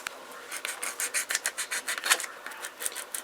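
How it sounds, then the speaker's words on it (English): Quick rhythmic rasping strokes of an 800-grit sanding pad rubbing back and forth over a plastic model car chassis, close up and fairly quiet, with no talking. "Then I go back with my 800 grit, sanding pads that I like to use."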